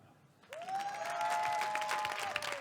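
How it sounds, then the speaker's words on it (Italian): An audience at a Comedy Clash stand-up night at Testaccio Estate breaks into applause. It swells quickly and holds as steady clapping, with a drawn-out whistle riding over the crowd. "Fatemi sentire un applauso come se io fossi Cecilia Sala"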